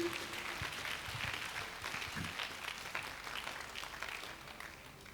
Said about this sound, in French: Applaudis très bien le Seigneur Jésus-Christ.